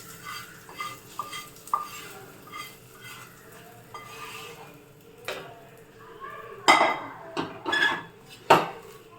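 Utensils clink and scrape against a pot as a mixture is poured into urad dal pongal and stirred, with a few sharper metallic knocks near the end and soft background noise.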